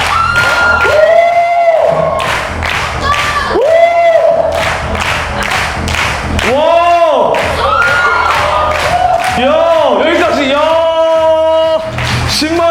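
A lively audience at a Korean stage event claps and cheers loudly in repeated rising bursts of whoops and shouts, with a host's voice calling out between the waves of noise.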